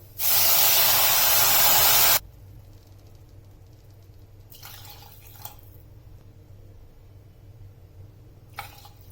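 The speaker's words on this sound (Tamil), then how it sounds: "இதுல வந்து 3 கப் தண்ணி இதுல சேர்க்கணும்" A loud, steady gush of water pours into a pan for about two seconds, then stops; quieter brief splashes and trickles follow later against a low background hum.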